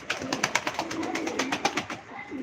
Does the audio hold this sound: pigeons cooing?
yes